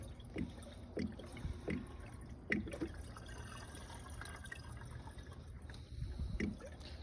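Liquid pours and trickles into the cooling system of a 7.3 Powerstroke diesel during a flush, a soft steady gurgle with occasional glugs and drips at close range.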